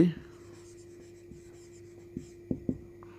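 Chalk or a marker taps and scratches faintly on a board during a physics lesson, giving a few brief strokes against a steady electrical hum.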